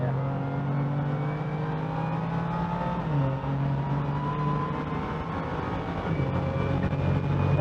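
A 580hp BMW M2 accelerates hard on a race track, its engine a loud, continuous drone heard from inside the car, rising and shifting in pitch with brief gear-change dips.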